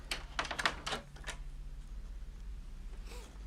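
Typing on a computer keyboard during a live horror game stream, a quick close burst of clacking keystrokes for about a second, then quiet room noise with a faint breathy sound near the end.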